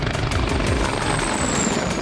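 Russian Ka-52 attack helicopter in flight, a steady loud rotor and engine roar with a thin whine running through it, continuous across the clip with no talk.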